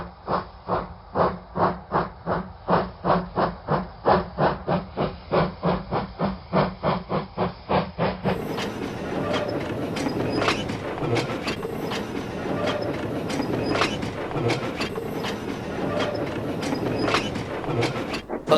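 A steam engine sets off with loud, rhythmic chuffs that quicken, then gives way to a steady hissing roll and clattering of wheels on the rails.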